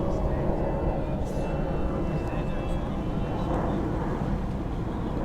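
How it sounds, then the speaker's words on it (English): A Jetstar airliner takes off in the distance near Sydney, a broad, steady low roar that holds evenly throughout with no distinct peaks, heard on its own without talk. "It's a Jetstar. The old Death Star taking off."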